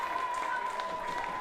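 Rugby sevens crowd applauding in the stand after a try at the Algarve 7s, a steady distant wash of clapping with a faint tone running through and commentary-level ambience.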